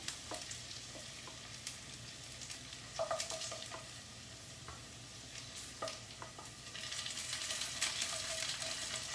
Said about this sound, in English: we will be preparing the final tadka on the same pan.